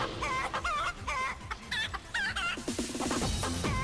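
Chickens clucking in a video game, a rapid series of close, loud clucks and squawks in quick bursts over busy background game noise.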